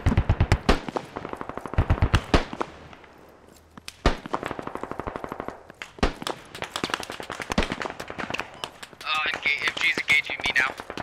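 Rapid bursts of machine gun fire in the video game Squad on an Afghanistan map, loud repeated volleys with pauses between bursts and a voice talking over parts of the shooting.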